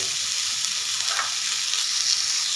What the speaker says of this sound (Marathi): आपल्याला टोमॅटो सुद्धा आता कांद्यामध्ये ना सॉफ्ट होईपर्यंत परतून घ्यायचंय।